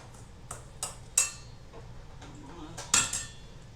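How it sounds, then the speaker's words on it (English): Flour, sugar, salt and baking powder are stirred in a bowl, giving a few distinct clinks and taps of a utensil against the bowl, spaced irregularly over quiet near-silence. "some flour, some sugar, salt, baking powder. Give that a quick stir."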